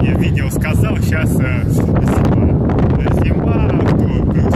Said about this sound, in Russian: холодно, чтобы загорать, и ветер холодный